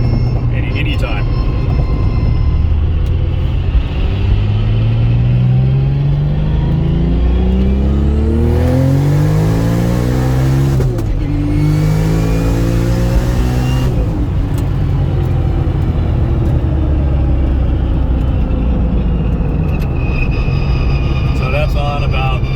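A 2001 Porsche 996 Turbo built to roughly 850 horsepower, running a low power map, pulls in a light acceleration through traffic. Engine tone climbs steadily in rising sweeps with a gear change midway, loud and close, while someone talks over it.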